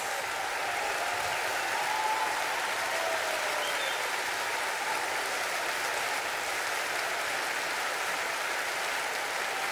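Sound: audience applause at an orchestra concert

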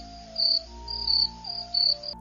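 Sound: cricket chirping sound effect

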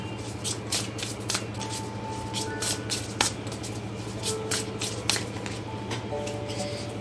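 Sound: tarot cards being shuffled and drawn

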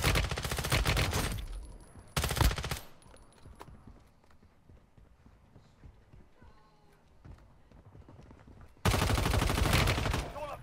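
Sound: gunfire in the video game Warzone Mobile

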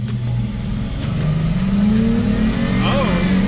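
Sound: AWD Chrysler 300S engine revving and launching in sport mode

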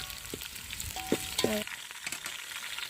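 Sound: onions and green chillies frying in a pan

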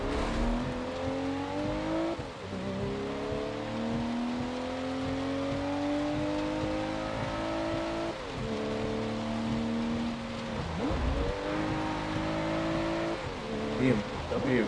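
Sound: Subaru WRX car engine racing

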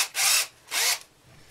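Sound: drilling through wood and plastic

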